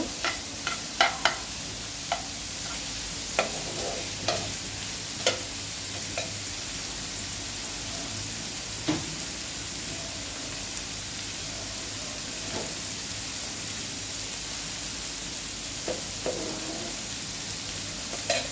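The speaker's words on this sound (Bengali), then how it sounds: "এবার আলু কুচিটা দিয়ে আলু ভালো করে একটু কষিয়ে নেব" Chopped potatoes fry in a pan with a steady, close sizzle throughout, while a spoon scrapes and clinks now and then as they are stirred.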